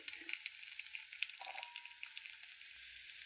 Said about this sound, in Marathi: हे बघा, किती सुंदर भाजली गेली मिरची बघा